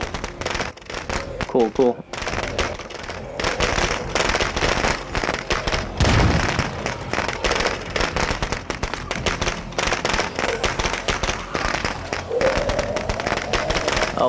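Zombie traps exploding in the video game State of Decay 2, rapid crackling bursts and pops like firecrackers in a long busy barrage, with a heavier blast partway through, while people talk over it.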